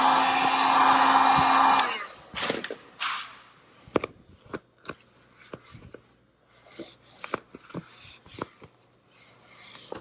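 A heat gun blows onto vinyl wrap on a car hood for about two seconds, a loud, steady airy roar close by, then cuts off, leaving scattered light rubbing and tapping handling sounds.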